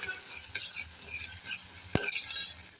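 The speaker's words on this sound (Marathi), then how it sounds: "तर कांदा असा चांगला पोळून घेऊया" Onion frying in a pan while a spoon stirs it: soft sizzling under repeated scraping and clinks, with one sharp knock of the utensil against the pan near the end.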